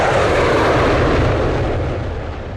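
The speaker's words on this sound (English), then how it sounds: "The pilot reports that together with Oleg, they will make a test flight" A military bomber flies on a test flight, its engines making a loud, steady broadband roar that fades slightly toward the end.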